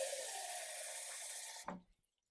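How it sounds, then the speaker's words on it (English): Water runs from a tap into a pot of pickle brine in a steady broadband rush, then cuts off abruptly with a short clunk near the end, leaving near silence. "I'm actually gonna add a bit more water."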